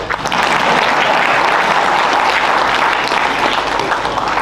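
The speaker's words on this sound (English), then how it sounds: "A big round of applause for us also." Dense, sustained applause from a large crowd at a leadership summit at IIM Amritsar, loud and steady throughout with no pauses.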